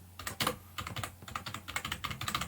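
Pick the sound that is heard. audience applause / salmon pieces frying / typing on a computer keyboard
typing on a computer keyboard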